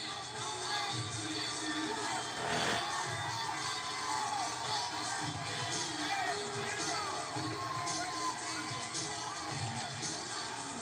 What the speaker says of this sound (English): Hearing some cheers and boos, it's kind of mixed